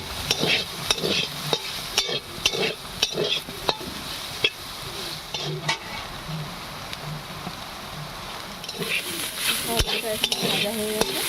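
Papaya, potato and soybean pieces seasoned with salt and turmeric sizzle steadily in a pan, with a series of sharp scraping stirs of the spatula throughout, close and fairly loud with no talk.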